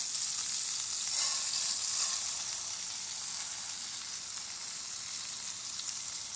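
Rice browning in butter in a pan, an even, soft, hissing sizzle that stays close and steady, fading slightly toward the end.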